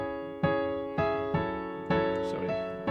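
Piano playing a song at a beginner level, with firm chords struck one by one in a steady, slow pattern, each ringing and decaying before the next.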